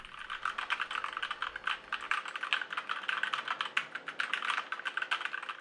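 Steady, quick typing on a compact Keychron mechanical keyboard with a number pad, its switches giving soft, not overly clicky clacks in a dense, even rhythm, close and alone.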